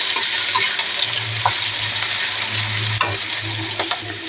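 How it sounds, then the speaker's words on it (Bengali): Onion fries in hot oil with a continuous bright sizzle, punctuated by occasional clinks and scrapes of a spoon stirring the pan, steady and close, with no talking. "পেঁয়াজটা আমি ভেজে নেব"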